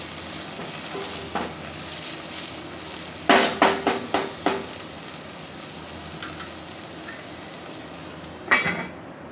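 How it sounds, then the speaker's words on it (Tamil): Tomatoes sautéing in a pan with steady, soft frying texture throughout, broken by a quick run of sharp spoon-on-pan clatters from stirring and one more knock near the end. "தக்காளியை நல்லா வதங்கட்டும்."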